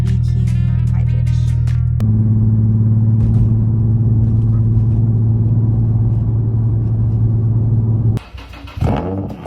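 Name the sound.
Infiniti G35 car idling after cold start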